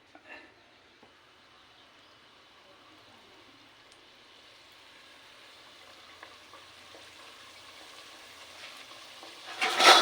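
Rolled, folded dough dropped into hot oil for a Kerala sweet, with a soft, steady sizzle of frying that builds gradually and swells to a louder burst of bubbling at the very end, no talk.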